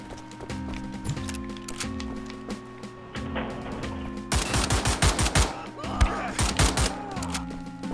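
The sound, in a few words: gunfire from enemies in the video game Wolfenstein: The Old Blood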